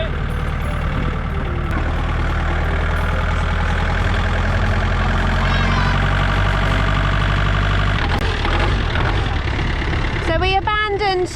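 A tractor engine idles with a steady low rumble outdoors at an off-grid glamping site. People talk over it, and a brief higher whine follows near the end.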